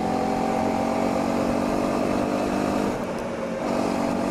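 Honda CRF250L motorcycle engine pulling hard uphill in fourth gear, a steady, loud buzzing drone that holds throughout with a slight dip near the end, heard close with no talk.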